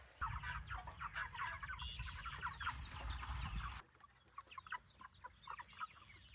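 A flock of laying hens clucks busily and close by, many overlapping calls continuing throughout with a brief drop in background noise midway.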